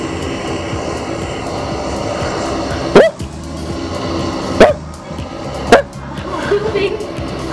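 An airplane drones overhead in the battle-royale game PUBG Mobile, a steady wash of engine noise broken by a few sharp thumps, with a player talking over it.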